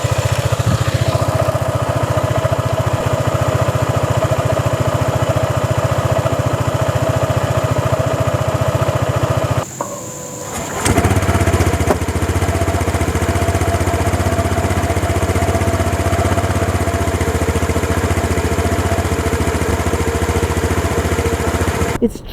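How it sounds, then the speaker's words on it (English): A Honda ADV150 150cc scooter engine idles steadily at close range, a low, even putter that holds for the whole stretch apart from a brief dip near the middle. "This is what the ADV150 sounds like at idle."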